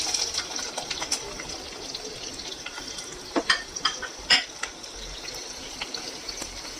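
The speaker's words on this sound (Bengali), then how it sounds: "পেঁয়াজটাকে একটু এবারে ফ্রাই করে নেব।" Onions fry in a pan with cloves for a soya chunk pulao, a soft continuous sizzle with scattered crackles and a few louder stirring scrapes midway, no talking.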